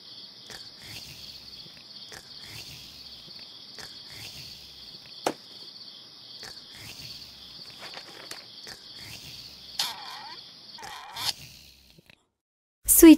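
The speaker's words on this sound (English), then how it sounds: "Louis wants to sleep, but crickets disturb him." Crickets chirp steadily in a children's hippo bedtime cartoon game, a continuous high, pulsing trill with soft taps and small game effects beneath, ending in a brief bright burst.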